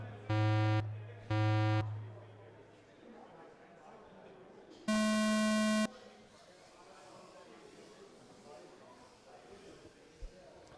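Electronic start tones at an FPV drone race day: two short identical beeps followed by a longer, higher beep, loud and clean, then a low murmur of crowd and background noise.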